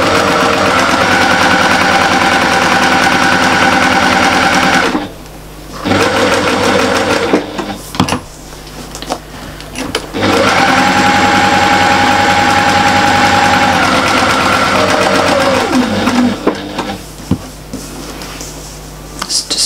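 A domestic sewing machine stitches a toilet bag, running loud and steady with a brief pause near five seconds, a choppier stretch of stop-start stitching, then another long continuous run.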